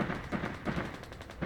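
Gunfire in Fallout 4, a rapid rattle of repeated shots in quick rhythmic bursts, moderately loud and somewhat muffled as if from a distance, with no talk.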